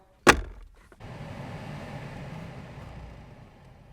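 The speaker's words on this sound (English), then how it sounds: "Here's the brand new blower fan" A brand-new OE blower fan in an Alpina B7 starts after a sharp click, then runs as a steady, fairly quiet broadband whoosh that holds close and even to the end.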